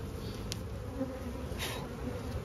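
Honeybees hum around an opened hive during a hive split, a faint, steady, low drone with a few brief buzzes of individual bees passing close.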